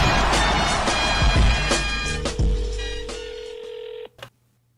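A telephone number is dialed for a prank call, a quick series of touch-tone beeps that is clear and close against a steady hum, then a sharp click.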